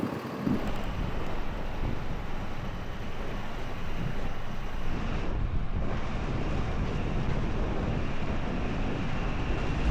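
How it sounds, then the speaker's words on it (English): Strong wind roars continuously across the microphone out in open rocky country, a loud, steady buffeting rumble with no voices. "It's pretty stupid windy here too."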